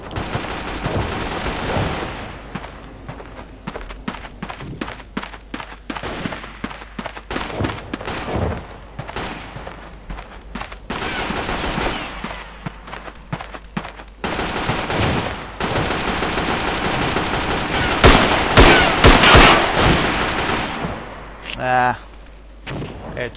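Dense World War I battlefield gunfire from the Verdun game: rapid rifle and machine-gun shots crackle in clustered bursts over a constant roar, with heavy thumps and a loud, busier stretch toward the end.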